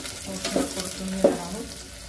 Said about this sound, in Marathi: तर ह्यात आपण घालणार आहोत कांदा चिरलेला,